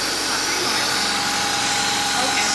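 A Honda Accord CB7 engine runs after a timing belt and water pump job, a steady, loud, broadband hum with a faint whine, constant throughout without variation.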